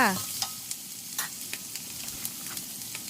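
Water mimosa with noodles being stir-fried in a wok for a vegetarian Thai dish, a steady sizzle broken by repeated scraping and clacking strokes of the spatula, close and fairly loud, with no voices.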